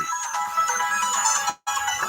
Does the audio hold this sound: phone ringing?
yes